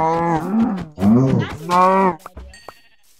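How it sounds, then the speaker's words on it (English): A Minecraft cow mooing, three long drawn-out lowing calls close and loud in quick succession, followed by a few soft clicks and game sounds. "Do you think I should slap this cow with his literal mouth?"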